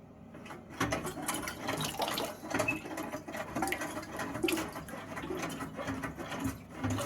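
A dual flush toilet with a faulty syphon is operated, giving rattling mechanical clicks and patter over a low gurgle of water in the cistern, steady and close for several seconds.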